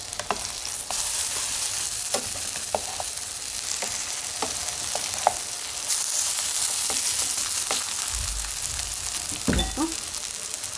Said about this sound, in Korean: 노릇노릇하게 구워주세요